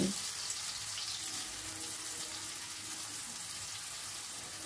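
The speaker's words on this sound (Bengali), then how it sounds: "গাজর কুচিটাকে আগে একটু ফ্রাই করে নেব। হাই ফ্লেমে রেখে একটুখানি নাড়াচাড়া করে নিচ্ছি।" Chopped carrot frying in oil over a high flame, a steady broadband hiss and sizzle that continues evenly throughout, with faint stirring underneath.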